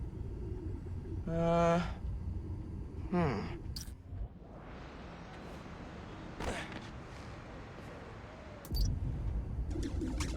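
Pigeons cooing in a park in the video game Spider-Man: Miles Morales, a few soft coos early on under a steady ambient city hum, with a voice speaking briefly.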